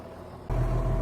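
A used tractor with about 9,744 engine hours starts to run partway through. A quiet low background gives way abruptly to a loud, steady, low engine rumble up close.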